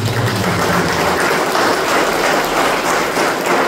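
A congregation claps in church, a loud, dense and unbroken wash of many hands that sounds almost like heavy rain, with a low hum underneath.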